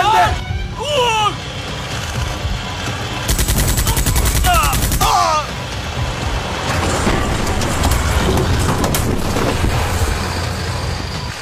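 Gunfire in a Turkish TV drama battle with terrorists comes as rapid bursts and scattered shots, with a strong machine-gun-like burst in the middle. Voices shout over the shooting.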